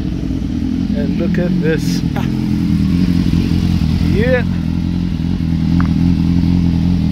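BMW S1000R motorcycle engine idling with a steady low rumble throughout, close by, while people talk over it.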